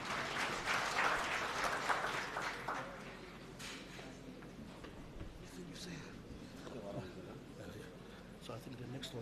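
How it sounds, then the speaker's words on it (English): An audience at an education summit applauds in a dense burst that thins out over a few seconds, distant and faint, with some speech. "can we just have another round of applause for Mr. Makato"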